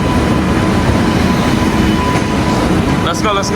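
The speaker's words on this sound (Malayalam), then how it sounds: "ഫൈനലി നമ്മൾ പോകേണ്ട തിരുവനന്തപുരം ട്രെയിൻ വന്നിട്ടുണ്ട്" A train bound for Thiruvananthapuram rumbles loudly and continuously nearby as it arrives at the station, a heavy steady roar, with a brief voice cutting in near the end.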